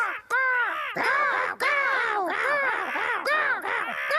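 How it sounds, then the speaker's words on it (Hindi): Cartoon crows caw loudly and repeatedly, harsh calls overlapping in a steady chorus close by, with no pause between them. "वो रहे कौवे"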